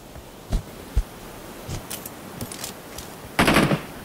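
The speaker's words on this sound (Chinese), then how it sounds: "左后一个枪声" Gunfire in the mobile shooter Peacekeeper Elite: two sharp single shots ring out early, a few softer distant pops follow, then a louder rapid burst of automatic fire near the end.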